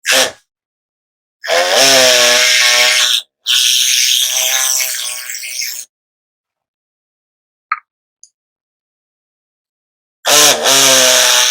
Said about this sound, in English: I'm going to cut these off as level as I can without getting into the bottom